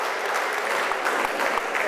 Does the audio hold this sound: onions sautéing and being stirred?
no